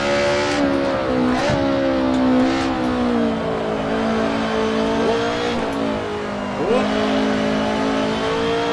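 A touring car engine in the Assetto Corsa racing game at the Mugello circuit drones steadily at high revs, rising and dipping through gear shifts, loud and close throughout.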